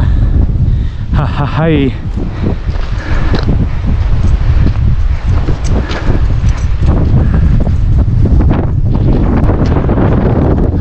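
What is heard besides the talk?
strong wind on a mountain road ride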